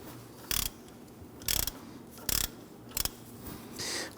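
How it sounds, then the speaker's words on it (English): A 1/2-inch ratchet on an extension clicks in four short, sharp bursts about a second apart while loosening an upstream O2 sensor on a Honda Ridgeline 3.5L V6, close and alone. "We're going to use our 1/2-inch ratchet extension to go ahead"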